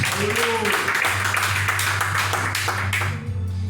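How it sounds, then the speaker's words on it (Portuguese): Church congregation applauding during a service, dense continuous clapping with voices and a low hum underneath. "eu peço um aplauso para o nosso amado Deus"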